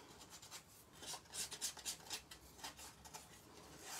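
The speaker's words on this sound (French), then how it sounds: "je prends ma lime et hop là, ça retire les petits zigzags" Metal hand file rasping along a knife blade edge to smooth out small nicks, a quick series of short, faint scraping strokes in an uneven rhythm.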